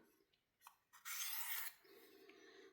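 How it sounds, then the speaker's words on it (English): Knife steel drawn across a 600 grit diamond sharpening plate, a quiet smooth rasping stroke lasting about half a second, close and alone after a few light taps. "hear the difference now in the steel going across that diamond plate"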